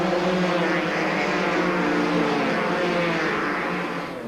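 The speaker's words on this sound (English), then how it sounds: "Then it was the turn of the bikes to storm down the runway of Mku's airstrip." Rally motorcycles, including big-engine KTM machines, roar down a bush airstrip runway during the Trans Tongaland 1997 rally, a loud sustained engine drone that stays strong before fading slightly as they pull away; no speech.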